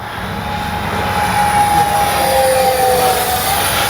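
An X-Fly F-15 40mm RC jet flies past, its ducted fan keeping up a loud, steady whine throughout with a thin high tone on top, heard alone with no talking.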